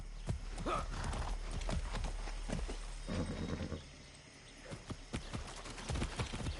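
Video game horse hooves clop in a quick, irregular rhythm close by in Far Cry, with a horse whinnying and snorting among the steps.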